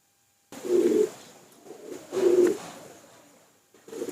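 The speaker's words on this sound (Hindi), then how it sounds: "ये तोकिया कबूतर है।" Two clear, close bursts of low throaty cooing from Rampuri toqiya pigeons, separated by a softer coo, with a final call starting at the end.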